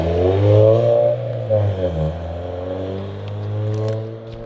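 An 8th gen Honda Civic Si fitted with Skunk2 Alpha headers runs loud and close, its engine note rising and falling through several revs before settling into a steady droning hum.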